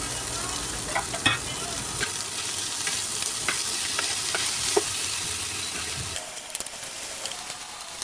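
Fried rice with vegetables and pork being stirred in a hot pan, a steady loud sizzle with scraping stir strokes throughout, no talking.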